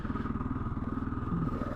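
Kawasaki KLR650S dual-sport motorcycle engine chugging steadily at low revs in second or third gear on a dirt trail, a close, continuous rhythmic thumping throb with no talk.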